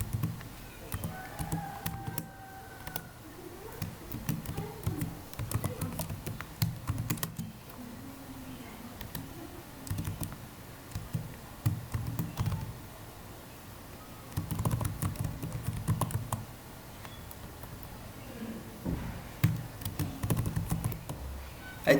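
Typing on a computer keyboard while writing CSS code: close bursts of rapid key clicks separated by short pauses, with a few scattered taps.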